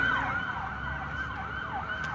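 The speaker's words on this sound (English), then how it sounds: "Real life sirens, real life." A wailing siren sweeps up and down repeatedly, loud and fairly close, over a low rumble of traffic.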